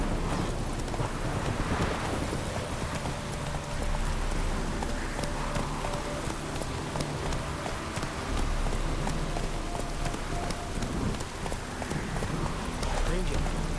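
Hooves clip-clop in a steady trotting rhythm from a horse in The Witcher 3: Hearts of Stone, close and continuous beneath wind, rain-like ambience and a voice.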